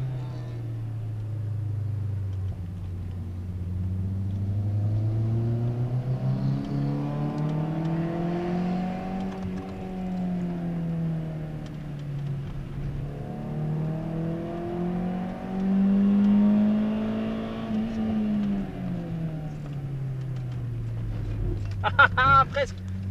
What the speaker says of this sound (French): Caisse de rallye.